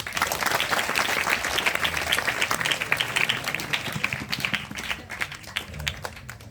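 Listeners at a Sunday morning Islamic study gathering at a pesantren in Banyuwangi clap for a child, a lively burst of many hands with a slightly uneven, pattering rhythm that fades gradually.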